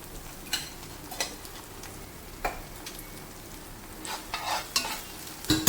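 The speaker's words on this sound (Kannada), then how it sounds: "ಇದೀಗ ಚೆನ್ನಾಗಿ ಫ್ರೈ ಆಗ್ತಾ ಬಂದಿದೆ" Mackerel masala fries in a pan with a soft, continuous sizzle, and spoon scrapes and clinks come at irregular moments, getting busier toward the end.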